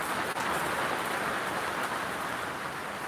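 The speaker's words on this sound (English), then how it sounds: "it's raining harder and harder. It's getting louder and louder in here." Heavy rain pours indoors as a dense, steady hiss of drops drumming on a surface. It stays loud and unbroken for about three seconds with no voices.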